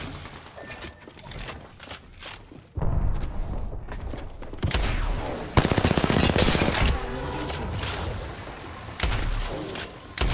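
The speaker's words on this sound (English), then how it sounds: "Shooting at me." Gunfire in a shooter video game, with bursts of rapid automatic fire and single shots broken by short pauses. The volume surges up and down and there are sharp impacts, loud and close, with no talking.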